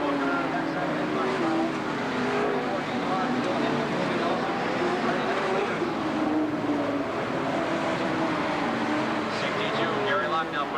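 Sportsman race cars roar around an oval track in a 1990 feature event, a continuous loud engine drone with shifting pitch as cars pass, under steady announcer commentary.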